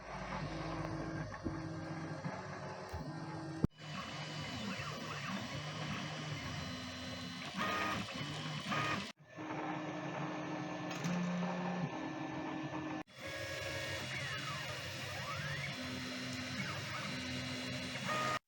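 A 3D printer runs steadily, its stepper motors whirring and buzzing in shifting tonal patterns, with brief pauses between movement sequences.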